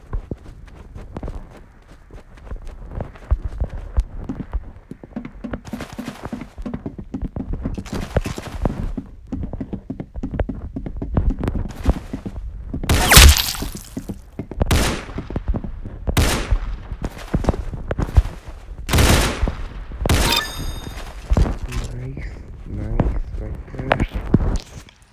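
Gunfire in the video game Roblox Arsenal: bursts of sharp digital shots and game effects come and go amid running footsteps, with a voice talking throughout.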